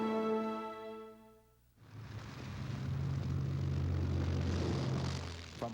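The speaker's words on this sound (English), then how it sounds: "American bombers and fighters smash Japanese bases at Truk and Rabaul." Engines of WWII American fighter and bomber aircraft attacking Pacific island bases at Truk and Rabaul: a short tonal passage cuts into a steady, loud droning roar of engines that holds to the end.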